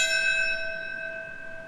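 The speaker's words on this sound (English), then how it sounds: "a bell tolled to honor the moments when the first 2 planes flew into the 2 towers" A memorial bell tolls at a September 11 ceremony in New York City marking when the planes struck the World Trade Center towers: one clear, resonant strike with a long, shimmering ring that slowly fades.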